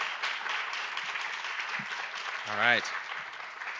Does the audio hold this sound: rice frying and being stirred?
no